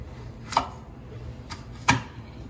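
A knife chops Brussels sprouts on a cutting board: three separate sharp knocks about a second apart, the last the loudest, over a quiet room.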